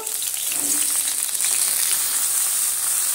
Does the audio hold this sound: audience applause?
no